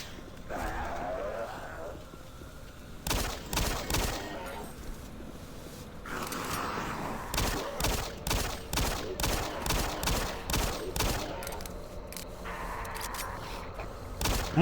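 Pistol gunfire in the video game Doom 3, sharp single shots fired in a steady rhythm, loud and close, in bursts across the stretch with game ambience between them.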